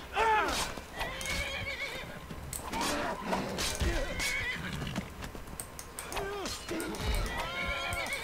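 A horse in the video game Skyrim whinnies loudly several times, with clip-clopping hooves and game sounds around it while someone talks over the action.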